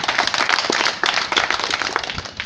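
Warm applause from a bench press competition audience for an honored guest, many hands clapping in a dense, even patter at close range, with no talking.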